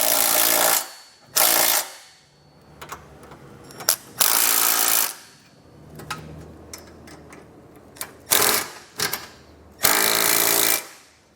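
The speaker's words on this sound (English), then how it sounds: "we'll come back with an 11/16 size socket and snug it all down" Curt trailer hitch bolts on a 2024 Cadillac XT5 being snugged down with an 11/16 socket: several loud bursts of rapid mechanical rattling, like an impact or ratchet driver, separated by quieter clicks and shop noise.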